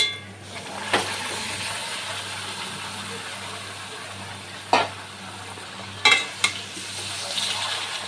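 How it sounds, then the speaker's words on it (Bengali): Marinated chicken fries in oil in a pan for chicken kosha, a steady soft sizzle broken by several sharp clanks and scrapes of a spatula stirring against the pan, with no talking. "মেরিনেট করে রাখা মাংসটা দিয়ে দেব।"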